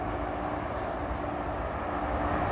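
Steady broadband rumble of a train running along a railway line beside a canal mooring on the Grand Union, continuous and fairly loud throughout with no talk.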